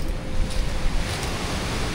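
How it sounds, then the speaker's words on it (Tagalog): Strong waves crash steadily on a dark beach by an abandoned resort in Cavite, a loud, continuous roar of surf with wind noise on the microphone. "sobrang lakas ng hampas ng alon"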